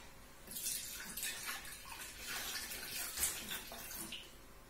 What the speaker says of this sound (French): Nous allons mettre 250 g de lait.